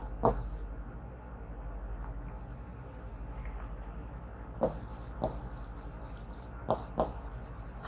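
Chalk or marker scratching across a board in a biology classroom, a few brief strokes at the start, then a quiet stretch and a cluster of short, sharp taps and scrapes near the end over steady low room hum.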